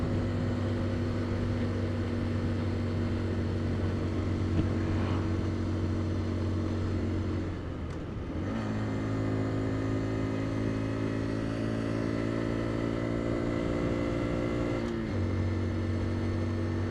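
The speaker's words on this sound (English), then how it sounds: "the wind is blowing directly at me" Steady roaring wind buffets past while riding a brand new Honda Dax on a countryside road, mixed with the motorcycle engine's constant droning hum, with brief dips and gear shifts partway through.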